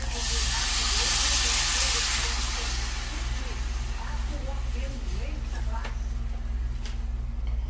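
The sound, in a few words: coconut milk boiling in pot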